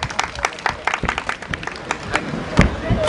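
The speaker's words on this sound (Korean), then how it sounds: "양 선수 격려 박수 한번 부탁드리겠습니다" An audience claps to encourage both boxers at a sparring exhibition between a former Korean super lightweight champion and a Filipino boxer. The applause comes in scattered, uneven claps over crowd murmur.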